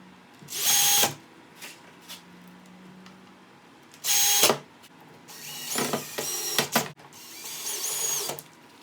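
A power drill drives screws to secure brackets on a prefab kitchen cabinet, with two loud short whirring bursts followed by several quieter intermittent drill runs and handling noises.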